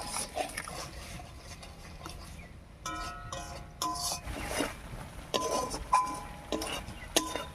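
Spice paste stirred with a little water in a pan for a paneer dish, faint scraping and clinking of a spoon against metal with a soft sizzle, repeated irregular strokes at close range.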